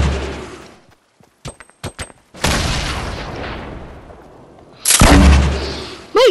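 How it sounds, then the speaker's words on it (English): Grenades explode in Fortnite, a quick string of sharp cracks and then two heavy booms that roll on and die away, loud and close, with no talking. "Wait, grenades!"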